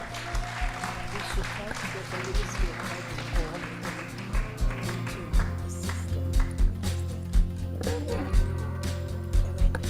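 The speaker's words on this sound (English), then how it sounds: "clap for them." Audience applause at an awards ceremony for an international postpartum haemorrhage conference, a moderate patter of clapping that continues under a speaker's voice with music, rising and swelling in bursts.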